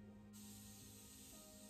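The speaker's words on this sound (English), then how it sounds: "you just spray it on." A short hissing mist from a pump bottle of Morphe Jeffree Star setting spray, sprayed once close by in a quiet room and held steady.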